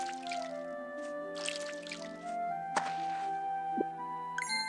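Watering crops in Harvest Moon: One World sounds as soft game drips and thunks over a sustained harp-and-flute melody, with one sharp click partway through and a brief chime at the end.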